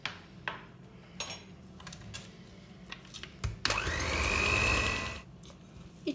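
Batter of flour and yogurt for a cocoa tart being whisked, with scattered clinks of a whisk against a bowl, then a loud mechanical whir lasting about a second and a half that sounds like an electric mixer or blender.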